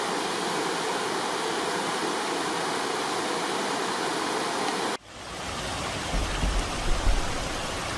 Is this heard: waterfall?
yes